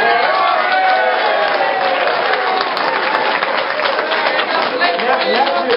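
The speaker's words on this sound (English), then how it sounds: "Two claps, it's about all it's worth." Audience at an election debate clapping, with dense, steady applause from a crowd that holds at an even level throughout, as though heard through a narrow-band recording.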